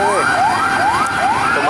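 A fire engine siren wails in repeated rising and falling sweeps, loud and close, on a Jakarta street near the burning National Museum.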